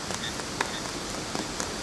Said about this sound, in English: on the nearby roof, among the unstructured sound of clingy raindrops, a few tinkles stand apart